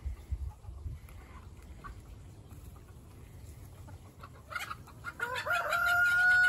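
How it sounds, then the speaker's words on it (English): Chickens cluck near the microphone, building to louder calls toward the end over a low outdoor rumble. "I sit down and I watch the chickens"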